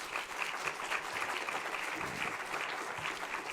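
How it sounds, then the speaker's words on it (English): An audience at a crowdfunding forum gives a panel a steady round of applause, a continuous wash of many hands clapping heard at moderate distance throughout. "Let's give this panel again a round of applause."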